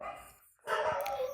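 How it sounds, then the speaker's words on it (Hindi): Dogs barking at night, a short burst of loud barks after a brief pause, with a voice faintly under it. "कुत्ते भौंक रहे हैं, रात को वीडियो रिकॉर्ड कर रहा हूँ"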